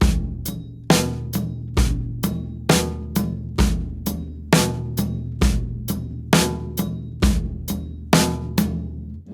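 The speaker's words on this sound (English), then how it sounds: "we can do that by playing the hi-hat on the offbeat" A steady drum groove with the hi-hat on the offbeat: a kick and snare pattern repeats evenly over about nine seconds, close and clear, with no talking.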